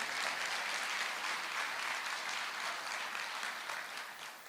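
Steady, dense applause from a church congregation filling the room for several seconds, a continuous wash of clapping with no speech over it.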